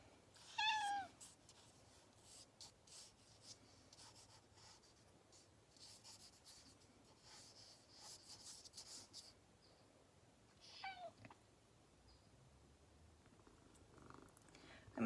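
A house cat meows once, clear and close near the start, then purrs softly under the faint scratch of charcoal being sketched on paper, with a second brief burst of sound later on.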